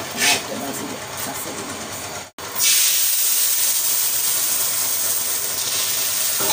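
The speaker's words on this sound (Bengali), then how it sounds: "এটা আমি টিকা ভাজবো" Tikka pieces frying in hot oil in a home kitchen make a steady, loud sizzling hiss that cuts out briefly for a moment, then resumes just as strongly, with no talking.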